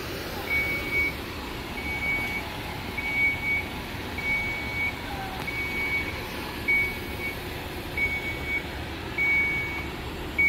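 A Segway P100S electric scooter's anti-theft alarm gives faint, high, evenly spaced beeps, roughly one every second or so, over a steady wash of outdoor background noise.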